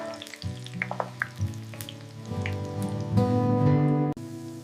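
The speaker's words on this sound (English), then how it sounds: "Frying until they are perfectly golden on all sides." Tofu frying until golden, a close bubbling sizzle of hot oil with scattered pops and crackles, steady and fairly quiet, no talking.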